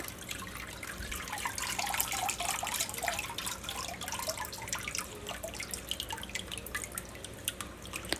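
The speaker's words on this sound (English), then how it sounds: "I'm going to try to drain out most of the water" Water drains and drips from a paper-making frame, with a steady trickle and a scatter of close, irregular drops falling continuously, no talking.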